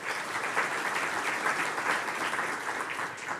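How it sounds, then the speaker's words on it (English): Dense, steady clapping from an audience at a research and innovation awards ceremony, a continuous moderate wash of applause with no talk. "it's very important that we give you a round of applause"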